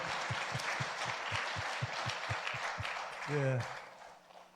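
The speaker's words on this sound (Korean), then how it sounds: "박수해 주시길 바랍니다." Steady clapping from a church congregation at an ordination ceremony fills the clip, with a rhythmic thumping beat underneath and a brief voice near the end.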